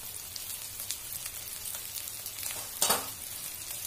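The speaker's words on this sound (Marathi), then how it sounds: "छान परतून घेते आता ते मिक्स." Turmeric and other ground spices sautéed and stirred in a pan for a spicy Nashik misal, with a soft, steady sizzle and one sharper scrape of stirring near the end.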